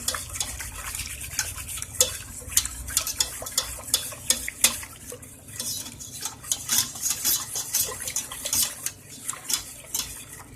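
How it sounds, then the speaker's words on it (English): Milk stirred in a pan over medium heat gives continuous clinks and scrapes of a metal utensil against the pan at a quick, uneven rhythm, over a faint background sizzle, close by and with no voices. "I'm just going to stir it around."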